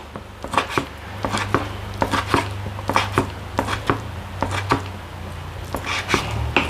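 A knife chops vegetables into small pieces for an Isan-style raw beef salad, giving a steady series of sharp, close board knocks at an even rhythm, with a low hum underneath.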